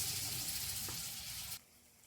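Spices, chili powder, black masala, turmeric and coriander powder, frying in a pan for a cauliflower curry, a steady close sizzle that cuts off suddenly near the end.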